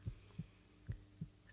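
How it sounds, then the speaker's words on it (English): A visual novel heartbeat effect thumps in low, paired beats, two quick lub-dub pairs in under two seconds, close and soft with a faint hum beneath and no voices. "Oh, why is my heart beating so fast?"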